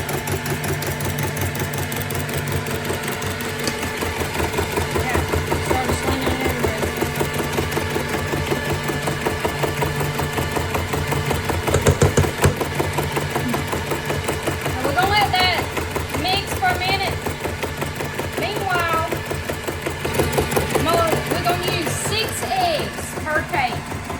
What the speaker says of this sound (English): we're just going to mix that on low with my antique mixer